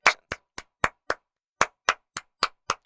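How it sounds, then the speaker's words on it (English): A single person claps alone, close and crisp, with ten sharp claps in two quick bursts separated by a brief pause. "Carly is applauding for all of us."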